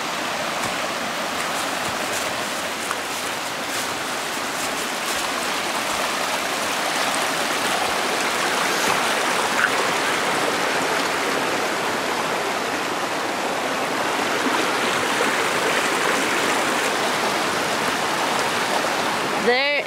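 A river stream on the Lincoln Brook Trail in New Hampshire rushes steadily in a continuous, close, broadband wash that holds an even level for the whole span with no pauses.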